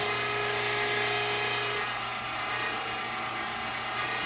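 Meat grinder working mountain oyster sausage meat, a steady close mechanical whir and grinding rattle with a constant motor hum throughout, no talk.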